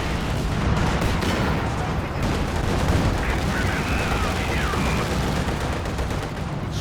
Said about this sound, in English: Artillery officer charging ahead with his mortar barrage popping.